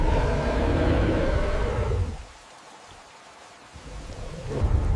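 Steady rain with low thunder rumbling through a wet-season landscape, heavy and broad for the first two seconds, then easing to a quieter patter before swelling again toward the end; no voices.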